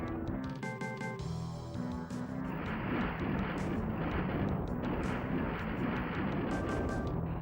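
Rapid gunfire and booming explosions from the SNES version of Doom, dense and continuous with repeated shot bursts layered over a constant roar.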